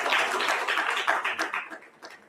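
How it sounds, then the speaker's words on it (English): Audience applause for speakers receiving mementos at an agricultural event, a dense burst of clapping that thins and fades over about two seconds. "I would request you to kindly give them a huge round of applause"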